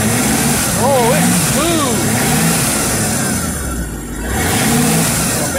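A MerCruiser 5.7 350 Chevy marine engine with Vortec heads revs up and down in a loud, close, continuous rumble, with a voice talking over it.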